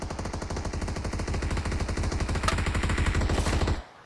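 Automatic gunfire rattles in PUBG Mobile as a loud, rapid, sustained burst of evenly spaced shots that stops abruptly near the end.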